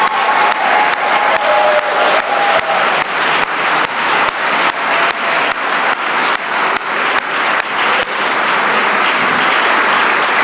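Steady, dense applause from a large crowd at a ceremony for economic development grant finalists, loud and continuous for about ten seconds, with a few sharp claps standing out and a faint tone early on.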